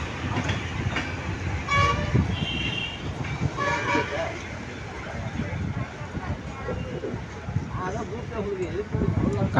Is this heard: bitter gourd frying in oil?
no